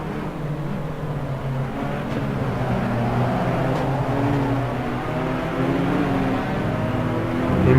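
An SS3 race car in the sim game Assetto Corsa runs through Blanchimont at Spa, heard onboard as a loud, continuous engine drone with shifting pitch that swells near the end.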